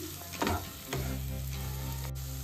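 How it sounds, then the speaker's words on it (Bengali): Ground spice masala for a mutton curry sizzles steadily in a pan, with a brief scraping stir near the start and again just before one second, then continuous close frying alone. "মশলাটা ভালো করে কষিয়ে নিই।"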